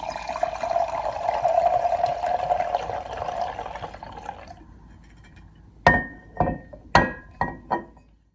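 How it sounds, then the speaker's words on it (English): Wine is poured into glasses in a steady gurgling stream for about four seconds, then fades, followed by five sharp clinks of glass being set down or tapped nearby. "After pouring, Judith relabels the glasses so I can taste the wines blind"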